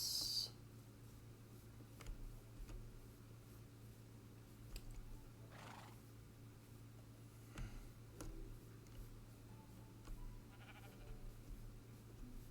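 Sheep bleating in Minecraft, a short bleat near the start over a low steady game-ambience hum, followed by faint scattered game sounds.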